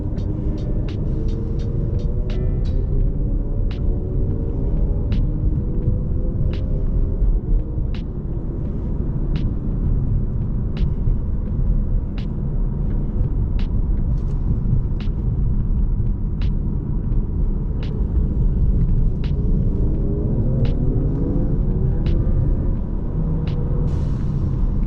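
Ford Mustang EcoBoost driving at night, a steady loud engine rumble and road drone throughout, with a string of sharp ticks and clicks that could be the turbo boost turning up.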